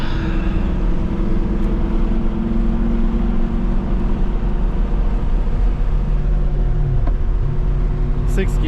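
A BMW E92 M3 engine cruising in sixth gear, a loud, steady low drone with road and wind noise and little change in pitch.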